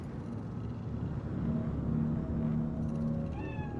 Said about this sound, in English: Fine-looking feline.